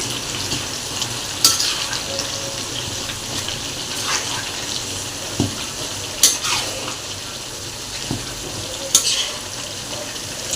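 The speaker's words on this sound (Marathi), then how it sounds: "किमान अर्धा तास तरी हा मसाला भाजत ठेवायचा आहे. एकसारखा हलवत राहायचं आहे." Two kilograms of ground chili vada pav masala roasting in a pan while being stirred, a continuous dry sizzle with periodic scraping sweeps of the spoon, close and without voices.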